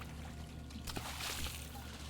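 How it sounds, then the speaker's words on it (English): Water pouring from pipes in the mining game Hydroneer, a trickling, splashing flow that swells after a moment, with a low steady hum of machinery beneath. "Now you'll see that there's water coming out of these."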